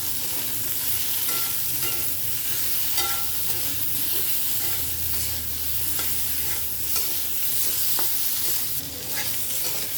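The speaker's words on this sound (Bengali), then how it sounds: "আমি মশলার সাথে আলু আর পেঁপেটাকে খুব ভালো করে 1-2 মিনিটের মতো ভেজে নিয়েছি।" Potato and papaya pieces frying with turmeric and salt in a pan for a thin Bengali fish curry, producing a continuous dense sizzle and hiss with occasional stirring scrapes, close and steady throughout, with no voice.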